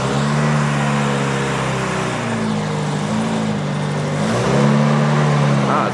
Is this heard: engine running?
yes